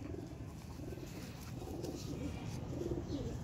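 Sialkoti pigeons with red beads coo softly in a low, continuous murmur under a steady background hum, with no clear pauses between calls.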